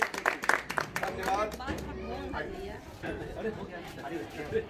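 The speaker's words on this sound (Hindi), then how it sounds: "एक बार जोरदार ताली बजाइए" Audience at a housewarming ceremony for a new row house in Surat claps briefly, a burst of applause fading quickly into crowd chatter and talk.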